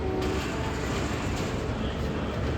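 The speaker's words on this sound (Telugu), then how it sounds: "ఇప్పుడు ఏదో ట్రైన్ అయితే బయటకు అయితే వెళ్తుంది" A train pulling out from a platform at Visakhapatnam railway station, a loud continuous low rumble and rolling noise close by, steady throughout with no talk.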